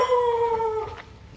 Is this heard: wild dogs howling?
yes